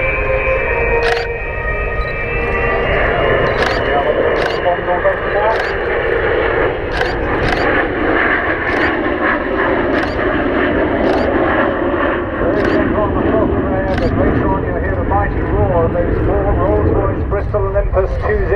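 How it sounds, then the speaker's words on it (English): The Avro Vulcan XH558 jet bomber with Olympus 202 turbojets performs at the Waddington air show, its loud, steady jet roar filling the air continuously beneath a commentator talking over a public address system. "to see XH558 performing here at Waddington"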